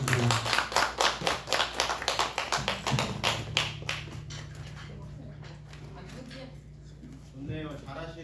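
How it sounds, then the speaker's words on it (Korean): A church congregation at a Sunday afternoon service claps in a quick, steady rhythm, loud at first and then fading into lighter scattered claps as voices carry on. "박수 주세요."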